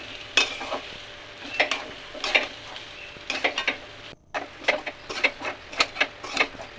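A spoon stirring turmeric into vegetarian khichuri in a kadai, with repeated scraping strokes in an irregular rhythm over a faint sizzle, close and fairly quiet.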